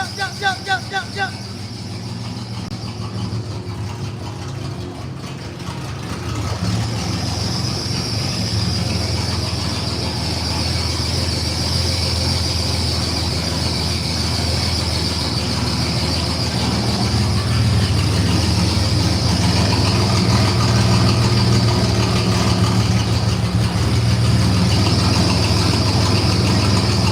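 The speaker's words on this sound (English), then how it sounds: "When these pumps stop, I'll turn it off." Aging fuel pumps on a 1986 Chevrolet Silverado square body truck, running with a steady whirring drone and faint high squeaking, continuous and fairly close throughout.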